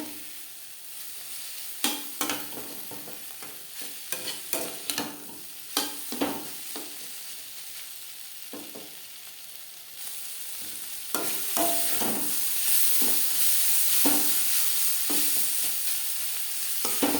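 Pointed gourd (potol) slices stir-fry in a pan over a medium gas flame, nearly dry, with a steady sizzle broken by repeated scraping, clacking stirs; the frying grows louder and fuller toward the end, with no talking.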